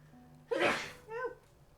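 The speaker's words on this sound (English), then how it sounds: "I gotta sneeze" A single sneeze rings out close and clear, a sharp breathy burst followed by a shorter voiced tail, set against an otherwise quiet background.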